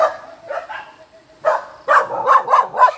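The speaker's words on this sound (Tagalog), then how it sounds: "ang dami nyo palang aso dito" Several dogs bark in short, sharp bursts, some close together, with brief quiet gaps between volleys, near houses at a campsite on Mt Parawagan, Rodriguez, Rizal.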